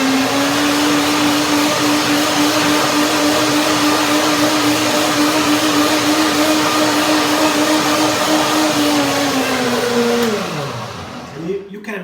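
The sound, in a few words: blender blending fruit dressing until creamy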